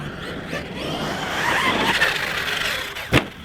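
An HPI Savage X RC monster truck on 6S power accelerating hard, its electric drivetrain whining and rising in a brief burst with tire noise, followed by a sharp thump near the end, heard outdoors without speech.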